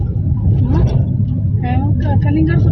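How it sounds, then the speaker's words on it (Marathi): Road traffic flows past with a steady low engine rumble throughout, while people talk over it in the foreground. "या साईडला ट्रॅफिक बघू शकता."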